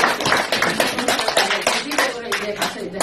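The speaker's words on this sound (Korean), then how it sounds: "박수!" A small group claps in quick, uneven bursts, close and fairly loud, with voices mixed in among the claps.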